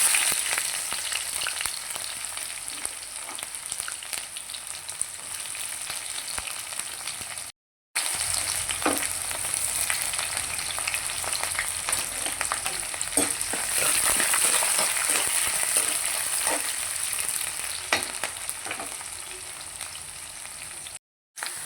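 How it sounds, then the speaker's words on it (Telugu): Dense, continuous sizzling of tempering seeds frying in hot oil for wheat rava upma, a bright steady crackle with scattered pops, briefly cut off twice. "ఇప్పుడు మనం తాలింపు గింజలు అయితే వేసేసుకున్నాం"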